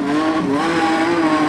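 Modified sedan race cars scream past on the Kingaroy Speedway track during a heat, their loud engines holding high, wavering tones as they race close together.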